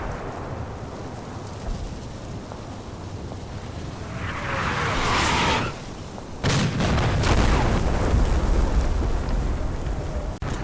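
Artillery barrage in Combat Mission: Red Thunder, a World War II tank game: continuous deep rumbling booms and blasts, loud and dense, with a brighter rushing burst midway and then a heavy sustained roar, no talk.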